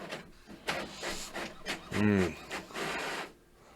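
A home printer churns out pages in soft rhythmic scraping passes, while someone speaks briefly over the mechanical noise.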